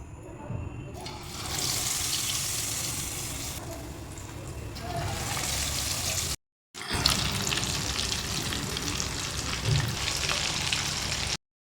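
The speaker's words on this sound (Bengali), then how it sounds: "এরপর আমরা ফ্রাই করব এটা" Egg devils fry in hot oil in a wok, giving a continuous loud sizzle and crackle that cuts off for a moment and then starts again, with some talking mixed in.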